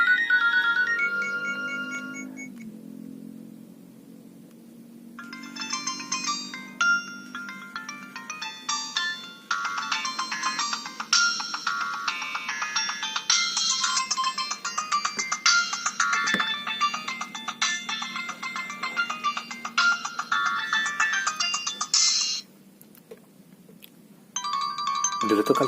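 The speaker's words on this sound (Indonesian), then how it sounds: "pasti sering banget dengerin nada dering kayak gini" A classic Nokia 2600 mobile phone rings with its bright, polyphonic ringtone melody, played loud and clear for over twenty seconds with no talking over it.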